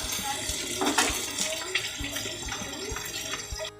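A stream of tap water runs steadily over an oil-fried fish head being rinsed in a home kitchen, with faint clinks and handling noises and no talk over it.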